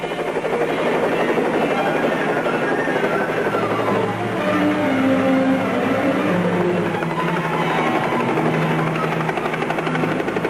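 A helicopter roars steadily nearby, its rotor thrumming loud and continuous with shifting engine tones throughout.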